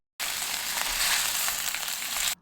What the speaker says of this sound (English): I put the raw pork block directly into the hot pan. Listen to that amazing sizzle.